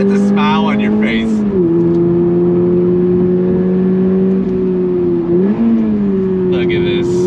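Engine note of a 2024 Toyota GR86 Performance Pack pulling on throttle in second gear from about 30 mph, a steady, loud, rising drone with a brief dip and recovery near the end, heard from inside the cabin.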